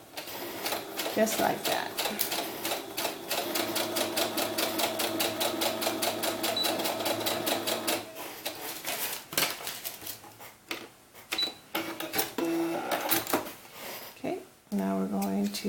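A sewing machine stitches two pieces of fabric together at a quarter-inch seam for a doll's sailor cap, running in a steady, fast, close mechanical rhythm for about eight seconds before stopping and starting in shorter bursts while a person talks.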